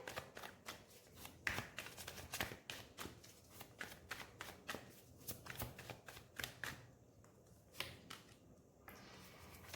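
Tarot cards are shuffled and drawn by hand, a close, rapid run of crisp riffling slaps and flicks with brief pauses, no talking.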